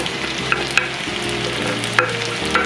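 Eggplant stir-frying in a pan with onion, garlic, chili and scallion, a steady loud sizzle with a few sharp clicks of a utensil scraping and tossing the vegetables, no voices.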